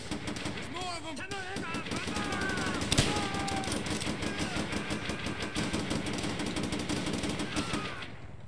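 Gunfire in Call of Duty: World at War, a sustained rattle of rapid shots with one sharp louder crack, mixed with in-game voices talking over the battle noise.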